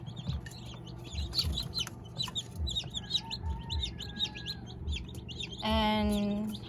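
Newly hatched day-old chicks of mixed heritage and native lavender breeds chirp in a steady, busy chorus of high peeps close by, with a louder clucking call rising near the end.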